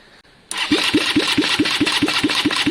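A Suzuki GRS 125 motorcycle engine cranks over with the throttle held wide open, the starter's even, rhythmic chugging beginning abruptly and continuing loud and close without firing.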